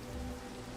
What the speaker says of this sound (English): look at this, it's pouring down rain